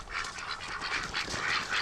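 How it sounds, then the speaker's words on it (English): Muscovy ducks give soft, breathy, continuous calls, faint and close, forming a low murmuring chatter with no talk. "All right, ducks."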